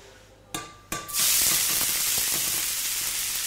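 Onions for a ratatouille drop into hot oil in a pan with two quick clatters, then burst into a loud, steady sizzle that holds strong and fades only slightly.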